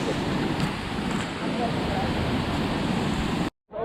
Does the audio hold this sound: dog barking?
no